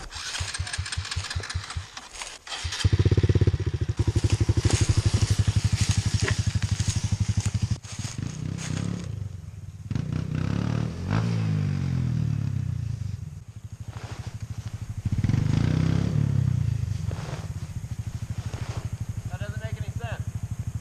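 Dirt bikes, a Yamaha WR450F, Honda Grom and Kawasaki Z125, trail riding in the woods: close engines start, rev and idle unevenly with throttle blips, while voices talk over them.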